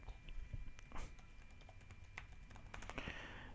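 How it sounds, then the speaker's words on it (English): Irregular clicking of keys on a computer keyboard, quiet and close, with uneven taps and short pauses. "We type this."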